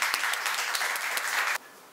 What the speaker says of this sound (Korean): 모두 박수로 맞이해 주십시오.